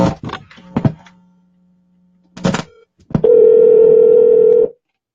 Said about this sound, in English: Let me go to the phone line and call the Baba.